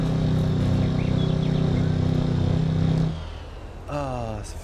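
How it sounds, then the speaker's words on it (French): Quad ATV engine in Farming Simulator 22, a loud steady droning hum that runs for about three seconds then cuts off, leaving quieter background tones. "Pourquoi tu fais trop de bruit ce quad"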